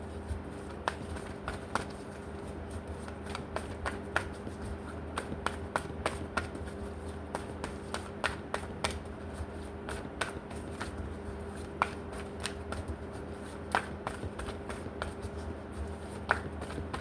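Tarot cards shuffled by hand, a quiet series of irregular crisp snaps and taps over a soft steady hum, continuing throughout.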